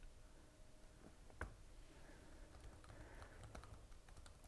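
Scattered, quiet keystrokes on the keyboard of a Lenovo ThinkPad X1 Nano touchscreen laptop with a black weave top, close by over a faint steady room hiss, with no talking.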